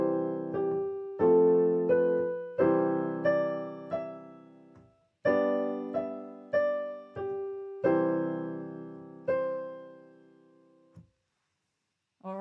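Piano playing a melody in the right hand over triad chords in the left hand: a series of struck chords that ring and decay one after another, with a short pause before a final chord.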